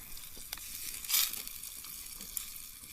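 Tomatoes and mushrooms sizzle in a pan of spiced vegetables at a bush campsite, a steady quiet frying hiss with a brief louder flare of spatter partway through.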